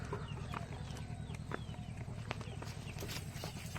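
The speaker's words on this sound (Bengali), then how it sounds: "মুরগিগুলো খাবার দিয়ে গেলাম" Chickens clucking while being fed outdoors at a rural home in the Sundarbans, soft repeated clucks with light footsteps and scattered pecking taps, fairly faint throughout.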